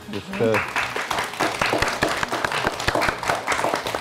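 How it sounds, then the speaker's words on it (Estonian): Audience applause for the child actors at a children's Sylvanian Families stage play, a mix of uneven claps with voices talking over them throughout. "teeme nüüd meie väikestele näitlejatele suure aplausi."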